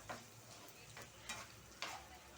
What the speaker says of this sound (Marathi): हे सगळं चांगलं तेलामध्ये फ्राय करून घ्यायचं